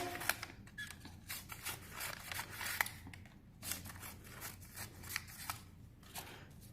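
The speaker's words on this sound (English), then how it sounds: "Take some paper, cut strips into the paper" Scissors snip through paper strips for homemade confetti, a quick irregular series of crisp cuts and rustles, close and fairly quiet, with no talk.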